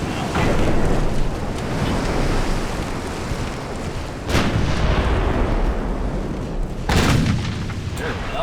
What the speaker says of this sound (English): Sarah, I'm impressed with your shooting right now